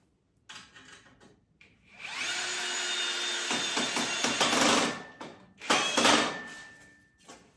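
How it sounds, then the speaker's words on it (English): A power drill whirs as it pre-drills a screw hole for a gate kit for a few seconds, followed by a couple of shorter bursts with grinding and scraping, close and loud. "Of course, I got to pre-drill one."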